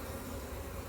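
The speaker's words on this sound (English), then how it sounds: "This is a boy bee. Boy bees don't have stingers. So I can handle a boy bee. He'll fly away." A drone honeybee near a hive frame gives a brief, faint, steady buzz that stands alone with no voices.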